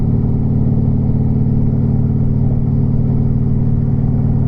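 Car engine droning steadily while driving on a rural county road in Coleman County, a loud, close mid-pitched hum with a regular pulsing rhythm and no talk.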